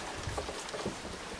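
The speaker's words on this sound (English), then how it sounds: "Yeah, it's raining good." Steady rain falls outdoors, a dense, even hiss of drops with a few heavier patters, continuous and fairly close, with no voices.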